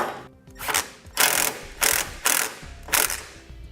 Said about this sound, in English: with that on, we'll now tighten up the clamp